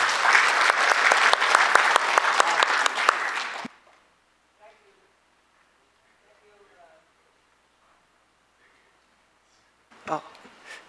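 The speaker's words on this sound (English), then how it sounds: "let's give him a big applause" Loud audience applause fills a lecture hall at a finance forum as a guest speaker is welcomed, dense clapping for about three and a half seconds before stopping abruptly, followed by near silence and a brief noise near the end.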